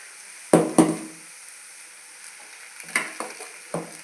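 Egg fried rice being stirred and fried in a pan at close range. Scraping knocks of the utensil against the pan come in a few distinct strokes over a soft, steady sizzle.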